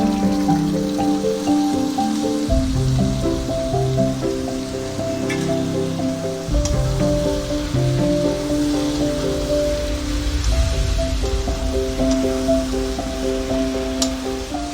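Drained ash gourd hits a hot pan of oil and sizzles in a steady, fairly loud hiss that swells at a couple of points, with sustained tonal background music.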